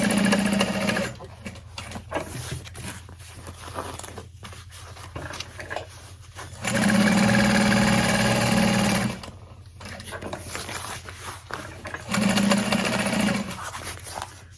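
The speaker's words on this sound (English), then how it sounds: "So I'm sewing through 4 pieces of fabric, and then continue on only sewing through the 2 lining pieces." A sewing machine stitches through four layers of lining fabric for a handbag, running in steady bursts of several seconds with short pauses between them, close and fairly loud with no talk over it.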